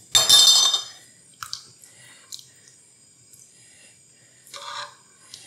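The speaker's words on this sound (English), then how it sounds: "You can see me stirring." Soup stirred in a Visions glass cooking pot, a spoon scraping and clinking against the glass in a few separate strokes with quiet pauses between.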